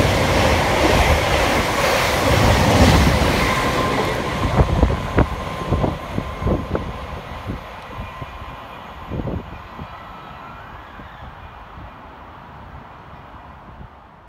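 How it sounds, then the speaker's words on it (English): A Govia Thameslink electric train, unit 700102, roars through Hendon station at speed close by, wheels clattering over rail joints, then the noise fades as it moves away. "Next to fly through the station for Govia Thameslink is 700102"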